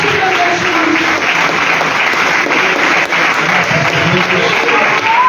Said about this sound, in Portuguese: Palmas que agradecem o nome de Jesus.